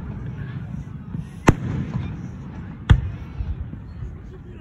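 Two sharp fireworks bursts about a second and a half apart, each a loud crack over a low rumbling outdoor background, with faint voices nearby.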